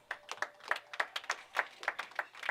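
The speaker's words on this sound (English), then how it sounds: "Can I hear some applause?" Sparse clapping at a racquetball tournament final, a handful of distinct hand claps in an irregular rhythm, quiet and somewhat distant, with no voices.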